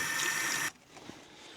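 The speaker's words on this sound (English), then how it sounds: "So I just take some hot water and rinse the crap out of it." Hot tap water gushes over a Kydex holster during rinsing: a loud, steady broadband rush that stops abruptly after about 0.7 seconds. Only faint room noise and a small knock follow.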